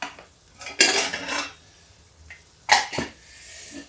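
Cooked masoor dal goes into a pan of masala in two separate moments, each a clattering bang of a metal pot and spoon, one longer with scraping, against an otherwise quiet kitchen.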